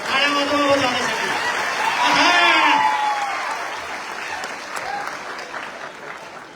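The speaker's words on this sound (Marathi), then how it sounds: "टाळ्या वाजवा जाण्यासाठी" Audience at an inspiring speech event applauding as someone is called up to the stage, a loud sustained burst of clapping with a few chuckles and crowd voices that gradually eases off.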